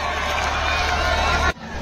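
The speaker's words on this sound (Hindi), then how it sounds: "जरा जोरदार तालियां और शोर, पता लगे आपके ऑक्सफोर्ड में उत्सव चल रहा है।" A school audience at Oxford School claps and cheers loudly during a magic show, a dense wash of applause and children's shouts that cuts off abruptly near the end.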